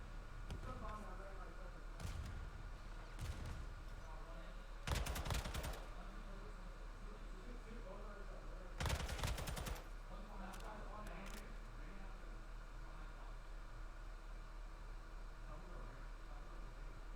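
Call of Duty gunfire during a competitive match: sharp bursts of shots around five and nine seconds over a steady low hum, with a few lighter pops scattered in between.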